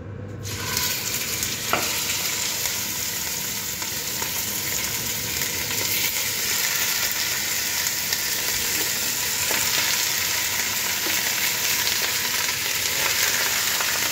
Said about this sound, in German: So, man wird das richtig scharf anbraten.